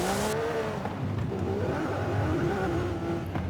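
A car's engine in Forza Horizon 5 drones steadily, with a rising tonal whine that shifts pitch as it revs. The sound is continuous and fairly loud, and there is no talk.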